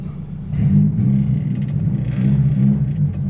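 Small manual car's engine rumbling steadily while driving, heard close and fairly loud from outside the car, with no talk over it.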